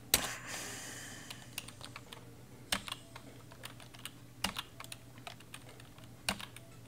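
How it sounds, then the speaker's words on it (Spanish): Someone plays a game on a computer keyboard, with scattered sharp key clicks and taps at irregular intervals over a quiet background. "con el teclado voy a jugar"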